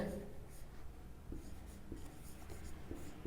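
A teacher writes a word on a board during a grammar lesson, giving soft, steady scratching strokes with a few taps, quiet against room noise.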